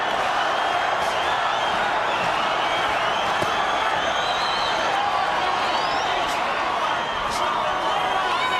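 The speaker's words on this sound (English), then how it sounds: "Crowd saying Oscar, Oscar" A packed boxing arena crowd roars continuously in a dense, loud wash of voices at the Sturm versus De La Hoya fight, with rhythmic chanting of the fighter's name blended into the steady din.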